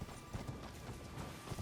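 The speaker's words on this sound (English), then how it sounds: "look at Torrent's size next to a regular horse" Horse hooves clip-clop in an irregular run of soft, moderately close steps in Elden Ring, heard alone without talk.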